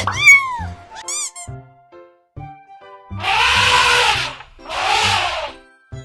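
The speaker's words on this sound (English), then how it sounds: "Cat." A cat meows in a short series of calls: quick chirpy mews at first, then two longer, loud drawn-out meows, close and clear with no talking.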